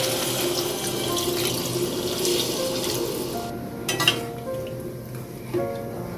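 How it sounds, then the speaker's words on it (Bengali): Water pours into a pan of oil-released spices, fried pointed gourd and potatoes, a rushing splash over frying sizzle that settles into a bubbling simmer with a couple of utensil knocks. "এরপর দিয়ে দিচ্ছি জল"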